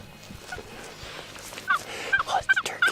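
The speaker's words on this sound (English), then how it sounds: "Just Doug's giving us some nice little turkey calls, and the toms are just responding like crazy." Wild turkey toms gobble back at hand calls in the early-morning woods, several short distant calls growing more frequent toward the end, over quiet outdoor background.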